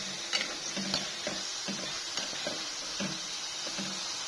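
Food frying in a pan, likely under a lid, giving a steady soft sizzle broken by a few stirring or scraping knocks, with no voices.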